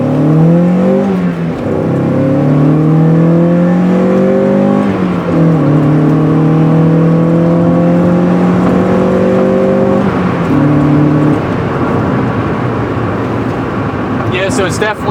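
A turbocharged Mazda Miata engine revs loudly through an acceleration pull after a Begi FMU install, its tone climbing steadily through several gear changes with short dips between, heard from close range in the cabin under steady road noise.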